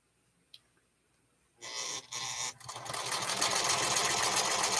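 A sewing machine stitches a quilt, first in two short bursts separated by pauses, then settling into a longer continuous run of close, steady mechanical whirring.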